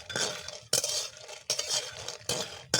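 Fried lentil dumplings (bori) of kolur dal being lifted from a frying pan, with repeated scraping and clinking of a utensil against the pan in steady strokes over a faint background sizzle, close and fairly loud.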